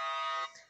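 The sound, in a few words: alarm going off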